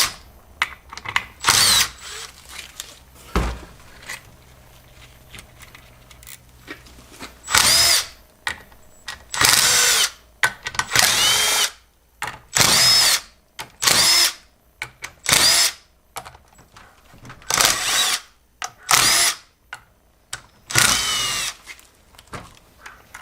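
Bolts on the C6 transmission of a 1980 Ford F-350 service truck being removed with a power tool, in repeated loud bursts of whirring and rattling, each lasting about a second, separated by short pauses.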